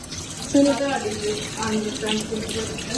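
A kitchen sink tap runs with a steady splashing rush of water into the basin, close by, while people talk over it.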